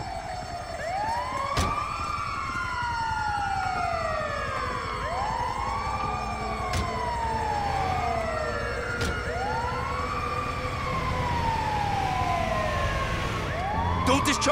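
An ambulance siren in the video game GTA 5 wails in repeated rising and falling sweeps, loud and close, with a couple of sharp clicks and vehicle rumble underneath.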